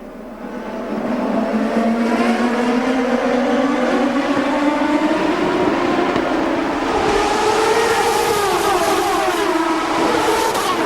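Champ Car race cars roar past on the 2006 Toronto street circuit, a loud, continuous engine howl whose pitch climbs steadily as the pack accelerates, with no voices over it.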